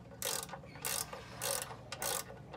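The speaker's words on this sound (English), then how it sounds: "we can go ahead and put the bolt back into the pan. We want to make sure that we're tightening the bolt easily." A ratchet drives the oil drain bolt back into the pan of a 2015 Ford Mustang GT, clicking in four quick bursts of rapid pawl ticks separated by brief pauses, close and crisp with no voices.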